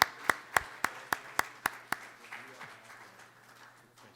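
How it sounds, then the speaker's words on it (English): A handful of sharp, evenly spaced claps from a small audience at a city council policy seminar ring out close by, about eight in quick rhythm, then fade into a quiet room. "let's give another round of applause to our panel for coming out on Saturday morning"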